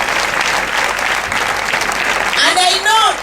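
Audience applause for Ugandan President Yoweri Kaguta Museveni, a dense, steady wash of many hands clapping that carries on throughout, with voices calling and cheering over it near the end.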